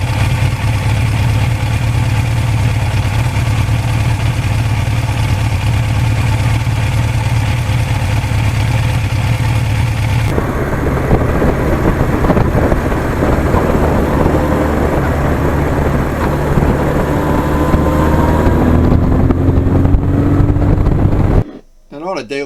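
A 41-year-old original-owner Suzuki GS1100E motorcycle hums steadily along back roads, its engine drone loud and continuous under rushing wind, shifting pitch partway through as the ride changes pace.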